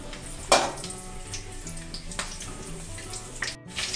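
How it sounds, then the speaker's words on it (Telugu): Green chillies frying in hot oil on a stove while making sweet-shop-style ghati, a steady close sizzle with a sharper pop or splash near the start and another about three and a half seconds in. "ఆయిల్లో ఫ్రై చేసుకోవాలి పచ్చిమిర్చిని."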